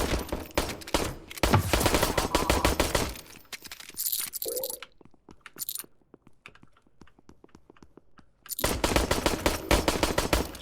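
Rapid bursts of video game gunfire with a Glock pistol, loud and dense volleys crackling at the start and again at the end, broken by a quieter stretch of scattered single shots and clinks.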